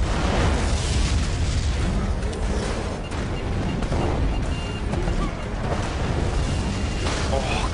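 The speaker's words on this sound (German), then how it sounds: "Oh Gott, jetzt ist das Auto damit explodiert." A car blows up in the video game Prototype 2, a dense, continuous roar of explosion and chaotic game noise that stays loud and steady throughout, with no clear pauses.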